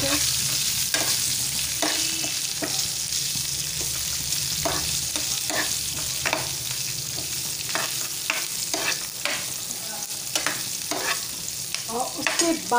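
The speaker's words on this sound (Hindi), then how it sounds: "मिर्चें जो कि बीच में से चिरी हुई हैं। इनको हल्का सा फ्राई करेंगे इस तरह से।" Slit green chillies lightly frying in a pan for a quick chilli fry, with a continuous hiss of hot oil and frequent irregular scrapes and taps of a spatula, close and steady throughout.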